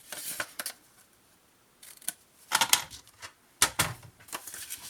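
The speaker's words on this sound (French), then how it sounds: "Je vais biseauter les deux petits coins." Scissors clip off two small paper corners for a scrapbooking mini-album, sounding as crisp, close snips in short clustered bursts separated by brief pauses.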